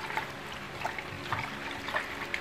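Warm water poured and trickling into a basin for a homemade foot spa, soft, uneven splashes and dribbles close by.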